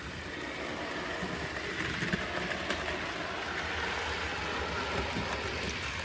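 A model train runs steadily along a layout with a continuous low rolling rumble and faint track clatter, no voices.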